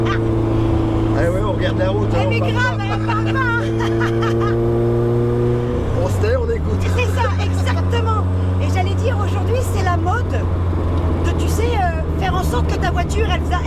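A Renault R5 Turbo 2 engine drones loudly while driving, dropping pitch as gears change, with occasional pops and crackles under steady chatter and laughter from people inside the car.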